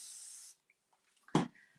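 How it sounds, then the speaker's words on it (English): A short, close hiss of spray onto a blended, distressed craft project, lasting about half a second, then near silence broken by a soft tap and a brief handling thump. "So just dabbing it on there, spraying it a little bit"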